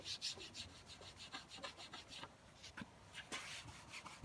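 Rhythmic scrubbing strokes rubbing softened residue off a wet cabinet edge, a quiet close series of short scratchy passes repeating roughly every third of a second, with no talk.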